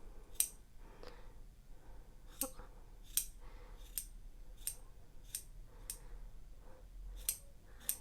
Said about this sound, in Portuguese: Vocês vão cortando aqui, ó.